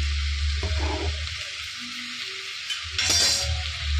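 Chicken keema fries in a pan with a steady, close hiss of sizzling oil. Stirring scrapes sound in the middle, and a brief louder crackling burst comes near the end.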